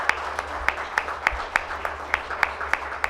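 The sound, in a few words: audience applause welcoming award winner to stage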